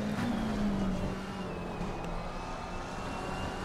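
A BMW race car in the racing game Assetto Corsa Competizione drives on track, a steady engine drone with a sustained tonal whine that holds level and then eases slightly, moderately loud and continuous.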